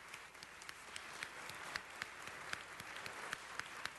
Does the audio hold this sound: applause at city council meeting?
yes